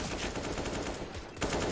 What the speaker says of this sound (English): Cheeky little headshot from Mo